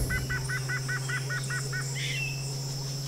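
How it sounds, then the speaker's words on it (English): A parrot calls in a jungle with a rapid series of about nine short, evenly spaced squawks, then one higher call, all over a steady background hum. "This is a parrot."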